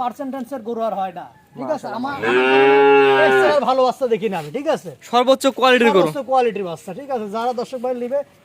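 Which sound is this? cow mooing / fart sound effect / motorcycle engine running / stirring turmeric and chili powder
cow mooing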